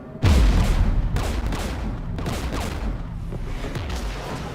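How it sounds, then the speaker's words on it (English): Gunfire pounds a ship in Mass Effect, a heavy opening boom followed by a dense, continuous barrage of impacts and rumbling blasts, close and loud throughout. "We're taking fire."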